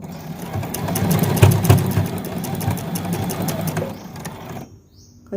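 A sewing machine runs steadily at close range as it stitches a fabric sleeve seam, a fast mechanical whir that swells slightly midway, then slows and stops near the end.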